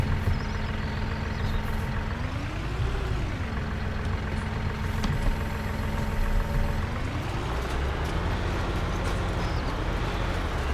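An aging tractor idles in Farming Simulator 19, a steady low engine drone with a slight pitch swell that holds unbroken throughout.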